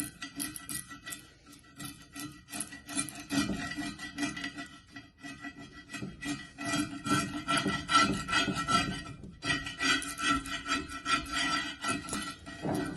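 Steady rhythmic scraping of old paint off a tractor part, a continuous rasping rub with quick repeated strokes, close and moderately loud, no talking.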